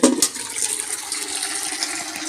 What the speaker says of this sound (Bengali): জলটা ভরে যাচ্ছে জলটাকে নিয়ে নিই